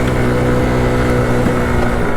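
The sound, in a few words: scooter engine with big bore kit revving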